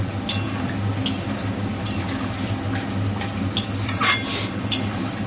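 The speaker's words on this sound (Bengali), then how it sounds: "দিয়ে এবার এটাকে ভালো করে নাড়বো" Mixture being stirred in a cooking pot, a steady low bubbling murmur broken by several sharp metallic clinks and scrapes of a utensil against the pot.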